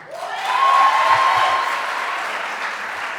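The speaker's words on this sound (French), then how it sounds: "Mesdames et messieurs, toutes ces personnes méritent vos applaudissements" Audience applause at a debate event, a broad, continuous roar of clapping that swells quickly and then holds, with a long sustained whistle ringing over the crowd early on.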